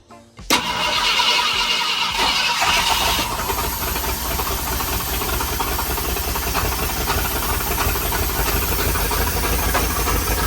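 A 1971 Ford F250 engine cranks and catches, settling into a loud, rough, continuous run close by, with no talking.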